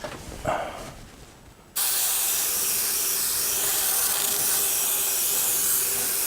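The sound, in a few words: Tamiya Spraywork HG airbrush spraying paint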